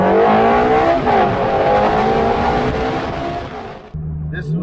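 Ferrari Challenge Stradale engine while driving, loud and close with rising revs and a gear change, then easing off before a sudden drop and a low idle-like hum at the end.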